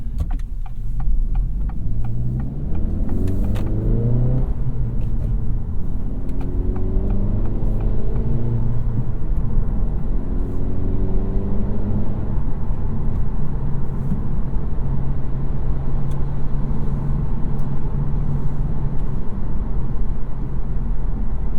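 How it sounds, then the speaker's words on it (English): A 2023 Acura Integra's 1.5-liter engine with a 6-speed manual, heard from inside while driving: a steady low rumble with rising rev sweeps that fall away between shifts, repeating several times. "let those revs come down before I shift"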